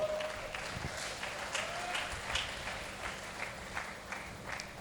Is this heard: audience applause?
yes